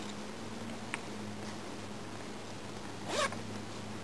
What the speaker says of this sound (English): Zip them back up